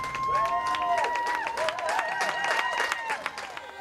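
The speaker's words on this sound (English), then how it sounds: "Let's all clap for our carers." A crowd clapping for carers, steady applause with scattered cheers and whistles ringing out all the way through.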